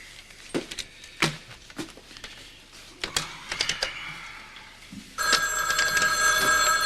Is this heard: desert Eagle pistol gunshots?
no